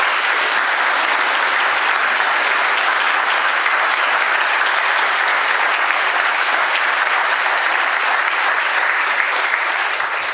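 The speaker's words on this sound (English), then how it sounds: "Another round of applause for that presentation." A library audience applauds after a presentation about a family memoir, dense, even clapping from many people sustained for about ten seconds, loud and close with no voices over it.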